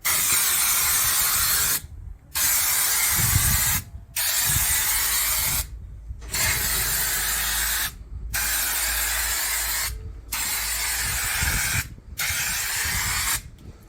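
A spray gun spraying old primer on a 1975 Daihatsu F10 under restoration, six loud bursts of hissing spray lasting a couple of seconds each, separated by brief silent pauses as the trigger is released.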